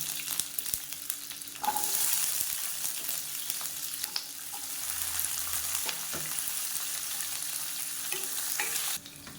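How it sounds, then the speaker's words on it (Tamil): Shallots and garlic sauté in a pan with steady sizzling and occasional stirring scrapes, a continuous close frying hiss running throughout with no voices. "இப்போ வெங்காயம் லேசாக வதங்கிடுச்சு"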